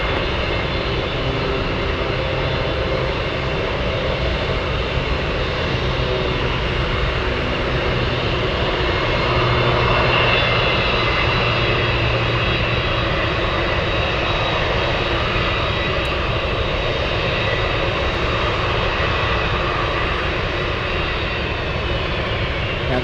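A Boeing C-17 military cargo jet roars past at an Anchorage airport, a loud, continuous, broadband engine rumble filling the whole stretch without fading, heard alone.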